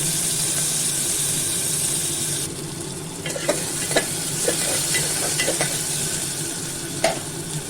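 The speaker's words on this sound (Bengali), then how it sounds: "এবার তেলের মধ্যে আমি কালো জিরে তেজপাতা তেলে দিয়ে দিলাম তার সাথে দেবো একটু পেঁয়াজ কুচি" Black cumin seeds, bay leaf and chopped onion frying in hot oil, a constant close sizzle and hiss with scattered light spoon taps and scrapes as it is stirred.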